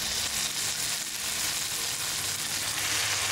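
Eggplant pieces go into a pan of browned onions and fry with a steady, loud, dense sizzle of hot oil. The sizzle runs close and unbroken throughout, with no voices.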